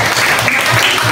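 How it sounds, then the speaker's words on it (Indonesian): A classroom of students claps for a discussion group, a short dense burst of applause filling the room, with a voice faintly underneath. "Ya, tepuk tangan untuk kelompok 2."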